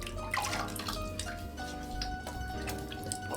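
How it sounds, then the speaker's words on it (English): Running tap water splashes steadily as a double-edge safety razor is rinsed mid-shave, close and continuous for a few seconds with small drips and clinks over a constant watery hiss. "A quick little rinse off,"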